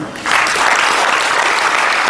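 An audience at the AAIC 2014 event breaks into sustained, full applause for speaker Sam Kannappan, a dense wash of clapping that swells quickly and holds steady.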